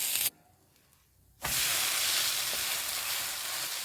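Jowar (sorghum) uttapam frying in oil on a hot pan gives a loud, steady sizzle that drops away briefly, then bursts back strongly and holds, with no talking.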